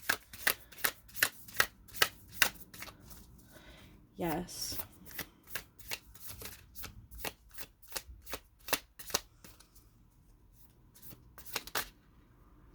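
Tarot cards are shuffled in rapid, crisp riffles and taps, a dense run of snapping flicks up close, with a brief spoken word partway through.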